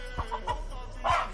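Chickens and roosters cluck in short, close bursts, several quick calls in a row amid low background noise.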